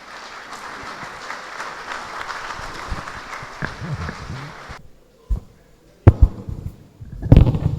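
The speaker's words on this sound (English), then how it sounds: "Please, another round of applause for them." Lecture audience applauding: dense crowd clapping for nearly five seconds, then breaking off into scattered claps, thumps and shuffling noises.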